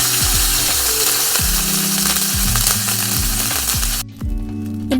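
Beef frying in a pan for caldereta makes a loud, continuous sizzle, with repeated low scraping and clunking from stirring. The sizzle quiets abruptly near the end.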